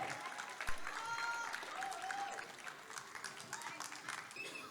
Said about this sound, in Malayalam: കൈയടി പോരട്ടെ.